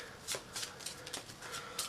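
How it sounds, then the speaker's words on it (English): Deck of game cards being shuffled during a board game playtest, a few quick soft riffling bursts, faint and close, with short pauses between them. "So I will shuffle the yellow deck."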